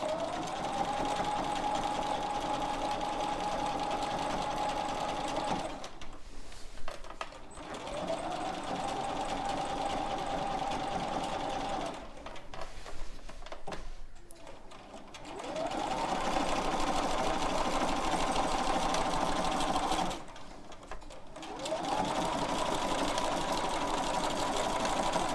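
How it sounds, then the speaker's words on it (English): A sewing machine stitching quilting lines on a quilt-as-you-go block runs in four steady whirring bursts, separated by short quiet pauses where the fabric is repositioned, close and at an even volume. "I am going to continue stitching out the side I didn't stitch and then come across and do that line."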